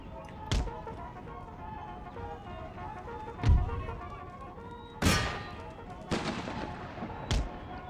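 Cannon artillery booms in the Empire: Total War battle game, five heavy, separate blasts spaced a second or two apart, each a sharp thud with a rolling tail over a constant din of the battlefield.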